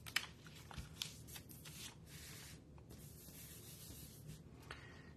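Sticker backing peeled from cardstock gives a quiet, close papery rubbing and tearing sound, with a few sharper crinkles among soft continuous scraping and no talk.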